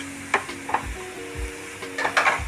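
Onions sizzle in a frying pan with chili powder, garam masala and turmeric, a steady close hiss punctuated by soft scrapes and taps of a stirring spoon.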